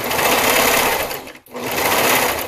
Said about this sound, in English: So now I'm going across the top back and the arm side. Exactly the same with quarter inch seam allowance